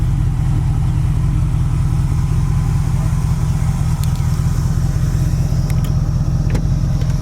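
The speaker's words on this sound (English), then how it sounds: "It's nothing radical, just has a nice dual exhaust sound to it." A 1936 Ford five-window coupe with dual exhaust idles close by, a steady, deep, even rumble that holds without any revving or talk for the whole stretch.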